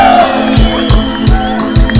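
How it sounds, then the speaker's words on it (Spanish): Rhythmic clapping from a crowd at a live band concert at the 2022 Soteapan fair, with cheers and shouts over steady music; the claps land about every third of a second. "Fuerte esas palmas y el grito de las damas"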